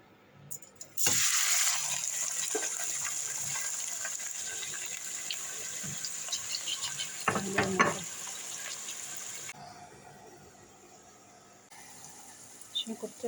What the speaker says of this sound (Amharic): ሽንኩርቱ እንደዚህ ተጠብሶልኛል።